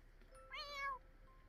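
A cat meows once in The Sims 4 video game, a short, faint, tonal call rising and falling over about half a second against quiet background noise.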